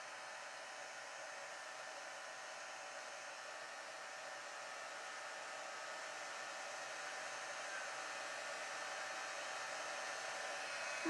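A heat embossing tool runs for card making, giving a steady, unbroken hair-dryer-like whir that holds an even level for the whole stretch, with no voices over it.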